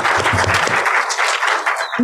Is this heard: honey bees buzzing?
no